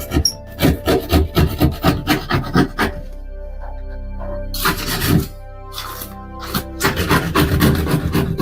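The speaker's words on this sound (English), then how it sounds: "Now that paint and drywall is coming off." Paint and drywall being scraped off a wall with rhythmic rasping strokes, about ten quick scrapes, a pause, then a few more bursts, loud and close with no talking.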